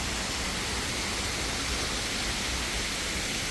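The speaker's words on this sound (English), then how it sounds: "we could walk and see the man-made waterfall created." Steady, soft rush of falling water from the man-made waterfall at the FDR Memorial in Washington DC, a continuous even wash with no voices.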